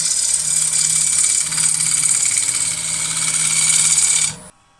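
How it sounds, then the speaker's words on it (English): A wood lathe spins a cracked bowl blank while a gouge makes a shear or scrape cut, giving a loud, steady buzzing, scraping whine that runs for about four seconds and then cuts off abruptly. "So I'm doing a shear or scrape cut towards me. Takes away quite a lot of material."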